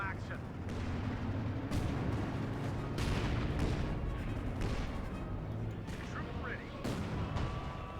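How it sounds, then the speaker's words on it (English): Artillery fire in a Company of Heroes 2 multiplayer battle with British and US forces against the German OKW: repeated heavy booms and crackling blasts over a constant roar of combat, with a commentator's voice running under the din. "More artillery fire there."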